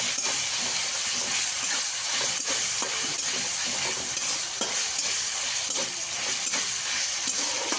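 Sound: stirring tomatoes into frying goat mutton masala

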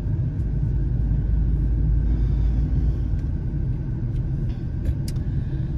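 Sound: vehicle driving slowly through traffic

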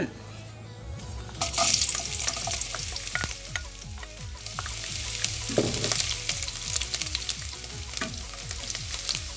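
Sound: garlic stir-frying in oil

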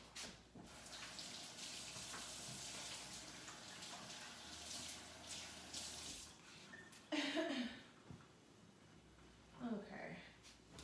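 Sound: rinsing meat under running tap water

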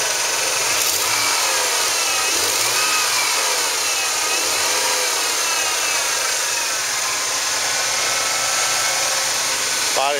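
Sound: Ford F150 4.9 six-cylinder engine running

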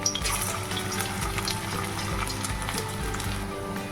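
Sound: frying banana-stem fritters coated in rice flour

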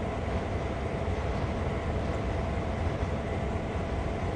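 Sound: freight train running in video game Train Sim World 2

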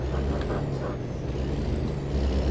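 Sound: truck air brakes hissing, from a video game

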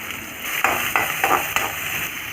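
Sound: onions sautéing in oil with mustard seeds, cumin, curry leaves

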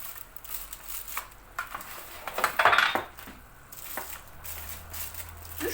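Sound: metal oven tray being handled

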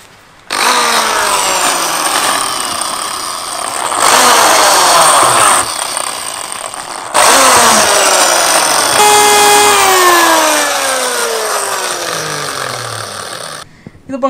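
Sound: drill machine drilling holes in a tyre

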